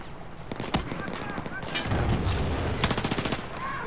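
Video game gunfire: sharp single shots and rapid machine-gun bursts at mid distance, irregular and punchy, with someone talking between and over them.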